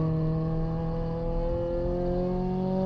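A Hyundai HB20 race car accelerates along a track lap in Curitiba, its engine a steady rising drone heard close and continuous without talk.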